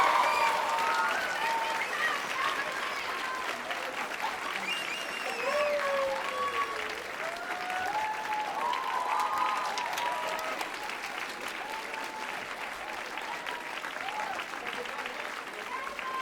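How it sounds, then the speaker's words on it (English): Sustained applause from a concert audience at the close of the Rhapsody Rotorua 2019 evening show, steady and fairly loud for the whole stretch, with cheers and whistles rising over the clapping. "Let's give us all one round of applause."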